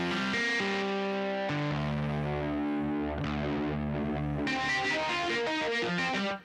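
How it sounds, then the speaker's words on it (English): A Yamaha Montage/MODX synthesizer plays sustained distorted chords through an echo effect, notes repeating and trailing off with a swirling, wide tone, loud and alone. "You also hear the effect, the echo effect."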